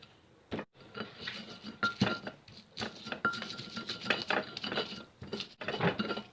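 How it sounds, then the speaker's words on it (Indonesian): Chili and shrimp paste are ground into sambal in a mortar, the pestle grinding and knocking in an irregular run of clinks and scrapes, fairly soft and close. "Kita ulek sampai halus ya teman-teman."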